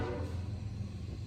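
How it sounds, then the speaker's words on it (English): A train passing at a distance outdoors, a faint, steady low rumble with no voices over it. "Oh, here comes the train."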